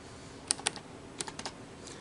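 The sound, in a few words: typing on a computer keyboard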